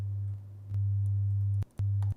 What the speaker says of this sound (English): let me get a 100 hertz sine wave